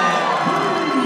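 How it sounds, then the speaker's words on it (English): Caloocan Supremos home crowd at a basketball quarterfinal against the Quezon Titans, a dense, loud, continuous roar of cheering and shouting, with a rising chant and youthful shrieks filling the arena. "Caloocan crowd chanting defense."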